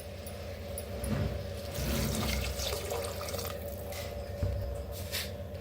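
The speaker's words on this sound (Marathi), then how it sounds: "त्याच्यात ओतूया पाणी" Water pours steadily into roasted masala in a pan for masala rice, a continuous gushing, splashing wash with a faint tonal hum underneath, close and moderately loud.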